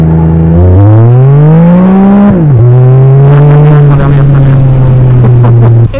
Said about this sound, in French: On va ralentir un petit peu, on va essayer de faire une accel.